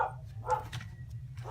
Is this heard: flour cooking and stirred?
no